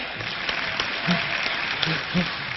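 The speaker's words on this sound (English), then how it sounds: "A warm round of applause." Audience applause at a symposium talk, a dense even patter of many hands clapping for a few seconds, moderately loud with a few faint voices underneath.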